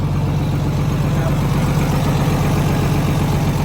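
An Isuzu engine fitted in a Hino FC truck idles steadily with a new 3-inch exhaust system, a loud, continuous low rumble close by that runs unchanged throughout.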